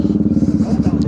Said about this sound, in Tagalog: Sobrang lakas ng mga tambutso ng mga motor dito.